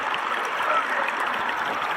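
Fast-flowing water in China Creek, a steady close rushing and babbling of the stream with no one talking.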